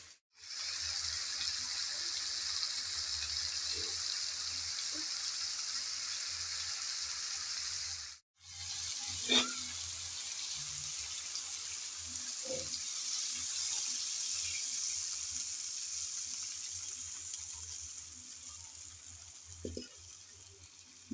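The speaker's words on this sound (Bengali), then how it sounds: "এখন দিয়ে দেব পরিমাণ মতো পানি।" Water is poured into a pot of browned mutton being cooked for haleem, giving a soft steady splashing and sizzling that runs on alone for the whole stretch with a few small clinks.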